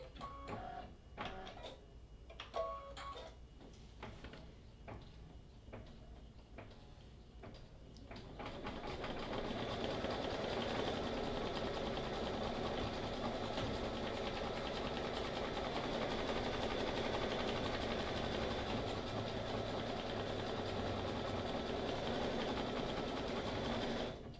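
A Brother ScanNCut machine starts with a few clicks and short whirs, then settles into a continuous loud mechanical hum and buzz that runs steadily to the end.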